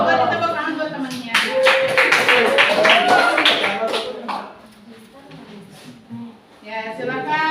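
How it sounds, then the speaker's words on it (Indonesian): A classroom audience claps for a presenter in a quick burst of close, bright clapping that lasts a few seconds, then gives way to talk. "Beri tepuk tangan buat temannya."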